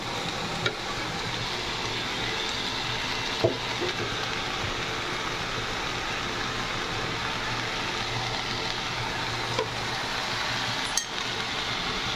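Oil sizzles in a hot pan while fish curry cooks, a steady loud hiss running throughout with a few faint clinks on top.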